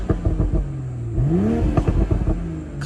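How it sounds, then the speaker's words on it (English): Stock exhaust on a BMW M340i revving hard in short, loud blips, with one longer rising-and-falling rev in the middle, heard up close and alone. "I just gotta give y'all stock exhaust notes."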